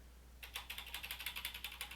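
Rapid clicking keystrokes on a computer keyboard, typing numbers, a steady run of close, crisp taps starting after a brief quiet moment, with no voices.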